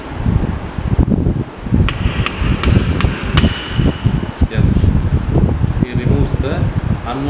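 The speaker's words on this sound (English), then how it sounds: "Unwanted wooden workpiece material from the required workpiece material with the aid of blind edge chisel and wooden hammer" A wooden hammer drives a blind edge chisel into a wooden workpiece while a cross lap joint is cut in a carpentry lab, giving a few sharp, evenly spaced knocks under continuous talking and a steady fan-like hum.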